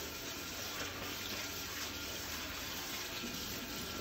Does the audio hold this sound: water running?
yes